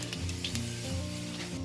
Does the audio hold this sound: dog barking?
no